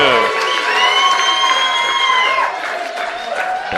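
Baseball crowd at a CCL game between the Lincoln Potters and the Healdsburg Prune Packers clapping and cheering, loud and steady, with whoops and high voices rising over the applause.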